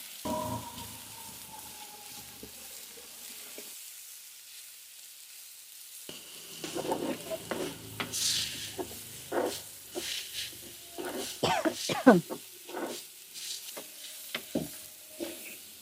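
Onion flowers sautéing with salt in a pan, a soft low sizzle that thins out, then a run of sharper scraping stirs and clatters growing louder toward the end, with no voices.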